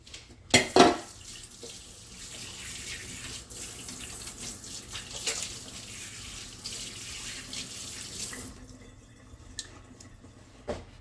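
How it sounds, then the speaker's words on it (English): Tap water runs steadily into a kitchen sink as hands are washed during dinner prep, a continuous splashing hiss lasting about eight seconds after a couple of sharp knocks, then cutting off to near quiet. "Let me wash my hands again."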